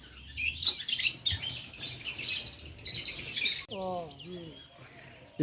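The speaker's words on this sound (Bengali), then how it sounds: "এই যে পাখি এই যে ছোট ছোট পাখি আছে এই জায়গায় অনেকগুলো পাখি" Small birds chirp and twitter in an eco park, bursts of bright, busy calls close by, followed by a few squeaky, descending whistles near the end; no talking.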